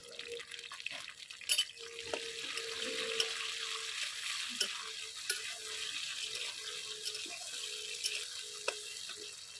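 Onions and tomato fry in a pan with a soft, low sizzle and occasional stirring scrapes and clinks, fairly faint and steady throughout.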